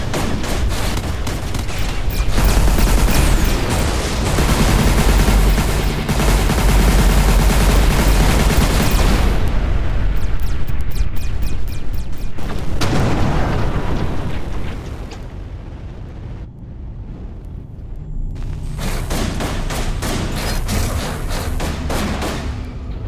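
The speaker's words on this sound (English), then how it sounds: "More torpedoes were just fired." Torpedoes launching in the space combat game Everspace 2, a long dense barrage of loud rapid blasts and bursts, then a brief quieter lull before another volley of crackling fire.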